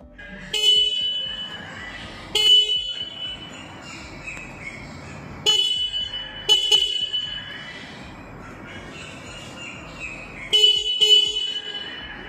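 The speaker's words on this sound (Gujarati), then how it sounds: "હું તમને હોર્ન ચાલુ કરીને બતાવું કેવો અવાજ આવે છે" A Hero Xtreme 160R 4V motorcycle horn sounds in several short bursts, some single and some double honks, separated by quieter pauses with a low engine hum.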